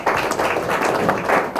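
Audience at a religious procession planning meeting claps together in a steady, dense patter of hand claps that stays fairly even and close throughout.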